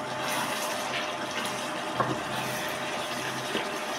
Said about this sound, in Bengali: এখন আমি ঝোলের পানি দিব